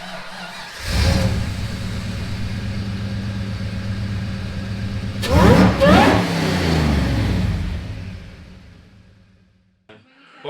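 A turbocharged Holden 304 V8 fires up for the first time in 12 years, settling into a rough idle before a couple of sharp throttle blips, then winding down and cutting out.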